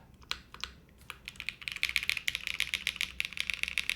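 Typing on a QK80 mechanical keyboard with the gasket removed from the spacebar, quick close clacky keystrokes that start sparse and build into a dense, steady run of loud key presses.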